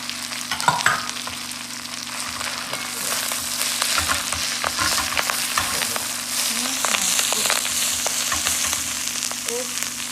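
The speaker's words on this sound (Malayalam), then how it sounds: "അതിൻ്റെ കൂടെ നമ്മുടെ ഈ സബോള കൂടെ ഒന്ന് ഇട്ട് കൊടുക്കുകയാണ്. അത് അതിൻ്റെ കൂടെ കിടന്നൊന്ന് വരുന്നുള്ളൂ." Moringa leaves with egg and onion stir-fried in a pan for thoran, a steady frying sizzle with intermittent scraping and clinking stirs, close and without speech.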